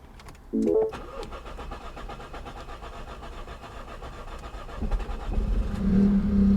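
Car engine struggling to start at a Copart salvage yard: a brief whirring crank near the start, then an uneven rough idle, rising into a louder revving run toward the end, close up with no talk.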